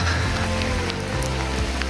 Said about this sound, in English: once this rain abates